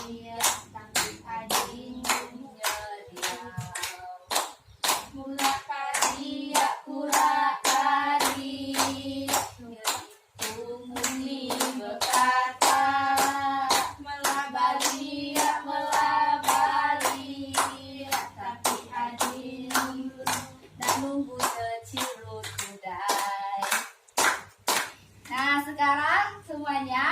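A primary class in Indonesia performs the PPK clapping chant, sharp rhythmic hand claps in steady unison alongside children chanting together, loud and close throughout.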